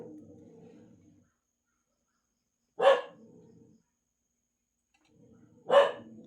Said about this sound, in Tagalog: Ayan yung aso natin.